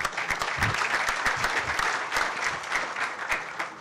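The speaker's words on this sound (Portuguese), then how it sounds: "Pessoal, palmas para o Eight." Steady audience applause at a software conference talk on Prevayler: dense, continuous clapping fills the whole stretch at an even level, with no voices over it.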